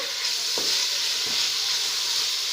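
Mint and coriander leaves sauté in a pan while tomato biryani is cooked in a large batch, giving a steady, loud sizzling hiss with a couple of soft stirring scrapes and no voices.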